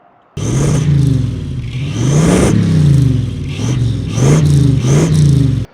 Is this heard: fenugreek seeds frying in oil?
no